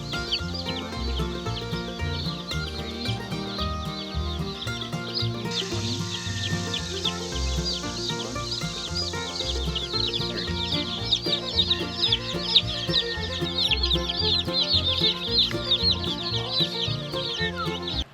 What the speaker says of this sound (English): when we get our chickens, we get 100 and they come in 2 boxes